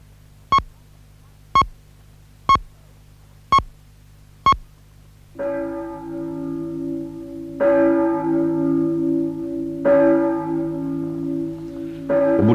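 On a radio time signal, five sharp, evenly spaced electronic beeps are followed by a deep bell tolling three times, each strike ringing out and lingering.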